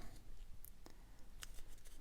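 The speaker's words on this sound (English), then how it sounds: "That's my little scissors to grab a bit" Small crafting scissors snip through paper ephemera for a junk journal, a few faint, crisp clicks and short cuts spread irregularly over a quiet background.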